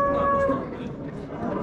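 Imported Simmental cattle from Russia at a livestock market in Kara-Balta, one short low moo over the murmur of crowd chatter and market noise.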